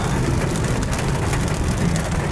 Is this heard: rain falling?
yes